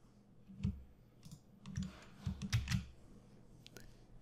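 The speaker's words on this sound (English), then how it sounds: "I'm going to hit control and then click on the" Computer mouse clicks and key taps while holding the Control key, a scattered series of soft, close clicks in small clusters over a quiet background.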